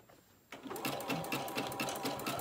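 A sewing machine zigzag stitching a fabric hot pad starts up after a brief quiet moment, then runs in a fast, even mechanical rhythm, loud and close, with no talk.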